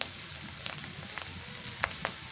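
Garlic paste hitting hot oil for a village-style fish curry with sarpunti fish, giving a steady close sizzle with scattered crackling pops and brief spatters, no talking.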